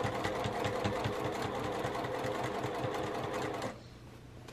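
Close up, a sewing machine runs steadily, stitching straight grain binding around the curved corner of a quilt, with a fast rhythmic whir that stops near the end.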